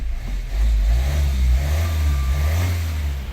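A 2015 Kia Sportage R engine cranks and catches, then settles into a loud, close, steady rumble with a slight rise in revs, no voices.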